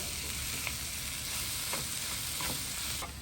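Food sautéing in oil in a pan gives an even, close sizzle throughout, broken by a few soft spatula strokes and faint taps.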